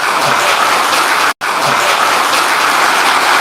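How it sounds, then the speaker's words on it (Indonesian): A crowd at a speech by Megawati Sukarnoputri breaks into loud, steady applause, a continuous wash of clapping with one abrupt momentary cut partway through. "Buat tepuk tangan tuh yang keras."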